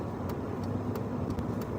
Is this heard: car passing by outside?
yes